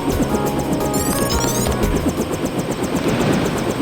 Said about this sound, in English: You trust the guy in the helicopter?